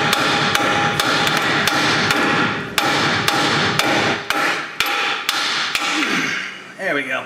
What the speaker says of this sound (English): grab a hammer and smack this surface right here